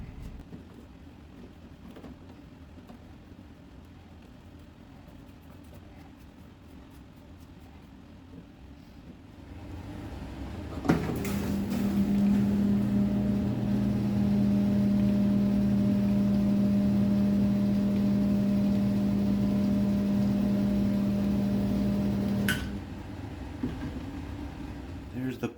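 A Drummond 1/3 hp sump pump switches on with a thump and settles into a steady low hum for about eleven seconds, then cuts off abruptly, fairly quiet over a faint background.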